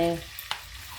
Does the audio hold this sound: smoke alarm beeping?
no